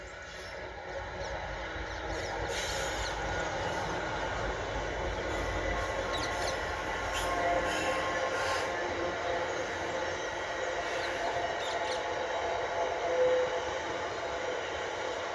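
A freight train passes near South Croydon allotments, a steady loud rumble and rolling clatter of wagons sustained throughout, with faint background sounds and no clear talking.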